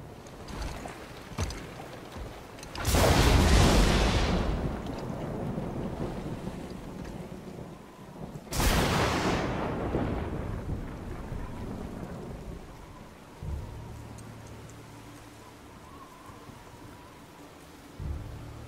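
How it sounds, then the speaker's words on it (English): Thunder and rain in the video game God of War: two loud rolling thunderclaps that swell and slowly fade, over steady rain, with a low hum emerging near the end. "I don't like it when there's thunder."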